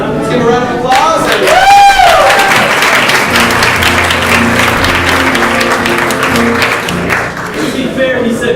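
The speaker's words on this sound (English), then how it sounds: "Let's give a round of applause." A theater audience at a live storytelling show breaks into loud, sustained applause that fills the room, following a brief rising musical flourish, with some cheering mixed in and dense clapping lasting to the end.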